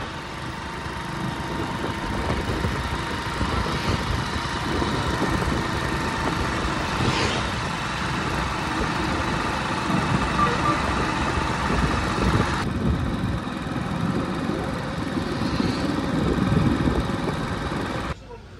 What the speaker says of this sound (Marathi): निघाला ट्रॅक्टर मग आपला घराकडे आता रिबेट मध्ये.